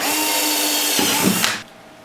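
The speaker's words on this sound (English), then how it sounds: "you take your 3/16 drill bit, the small one, and you drill those holes" A power drill with a 3/16 bit whines steadily at close range, its pitch shifting briefly as it bites, then winds down and stops.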